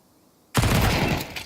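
Gunfire in Counter-Strike 2, a sudden loud burst of shots after a quiet moment, sustained rapid firing for about a second.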